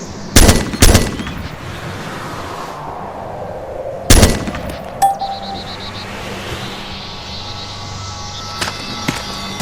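Gunfire in the military shooter Arma 2: Operation Arrowhead: a few loud, sharp shots spaced apart in controlled single fire, the first two close together, with a metallic clink and a long ambient rumble between.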